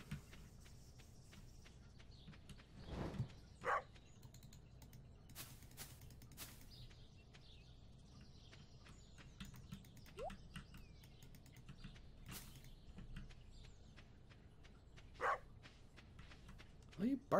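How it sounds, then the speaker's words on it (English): A dog in the farming game Stardew Valley gives a few short, sharp barks spaced several seconds apart over quiet in-game ambience with light bird chirps. "What are you barking at, boy?"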